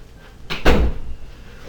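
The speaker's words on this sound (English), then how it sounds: "I think I need to close my door." A door at home swung shut, giving one solid wooden thud with a short rattle, alone against a quiet room.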